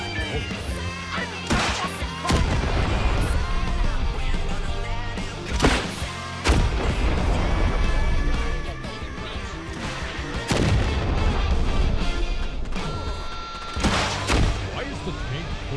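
Rocket launcher fire in a video game: repeated sharp blasts and booming explosions at irregular intervals over dense battle noise, with someone talking throughout.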